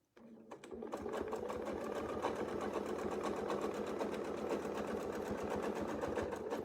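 A sewing machine stitches continuously along a ruler template, a fast, even mechanical whir that starts abruptly and runs loud and close without any talking.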